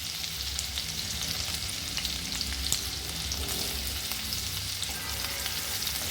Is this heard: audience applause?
no